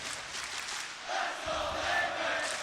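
A crowd at the ESL One New York CS:GO semifinal, Astralis versus Team Liquid, a faint, distant roar of voices that swells partway through and stays up, under a commentator's talk.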